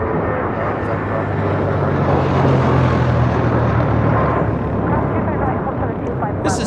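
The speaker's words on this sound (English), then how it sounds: "This is Spirit Airlines 472 taking off to Memphis on an A320" A Spirit Airlines Airbus A320 departs Los Angeles International Airport on a flight to Memphis, a sustained loud jet roar with a low engine drone holding steady throughout, with wind noise and no clear talk.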